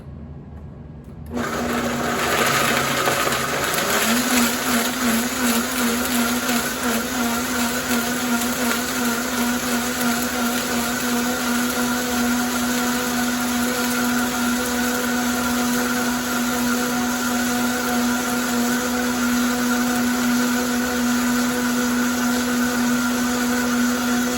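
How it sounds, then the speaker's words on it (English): A Vitamix high-speed blender starts up and blends tomato sauce in a loud, continuous whirring roar that holds steady for over twenty seconds, close by with no talking. "What kind of blender? This is a Vitamix"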